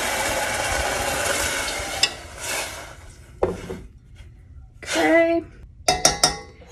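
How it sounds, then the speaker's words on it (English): Liquid pours into a hot pot of toasted quinoa with a steady rushing hiss for about two seconds, then a few sharp knocks and scrapes of a utensil against the pot. "I'm gonna go ahead and add my liquid"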